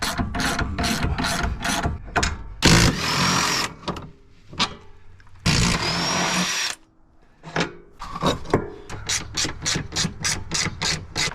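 A Ryobi power tool rattles and buzzes in rapid bursts while removing suspension bolts on an Acura RSX during a sway bar and control arm install, with two longer sustained runs among quick pulses, close and loud.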